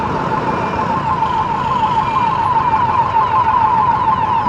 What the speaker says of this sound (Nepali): एम्बुलेन्सलाई त बाटो दिनु नि यार